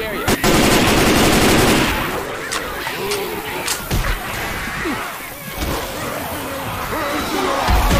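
Rapid automatic gunfire bursts loudly in the zombie shooter Left 4 Dead 2, followed by scattered shots, impacts and game noise, with voices calling out between.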